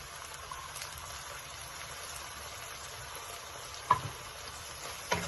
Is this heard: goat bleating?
no